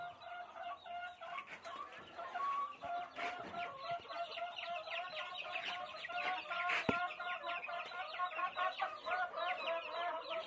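A brood of chicks kept in a dry pen peeps in a dense, continuous chorus of high, overlapping cheeps, fairly close and steady throughout.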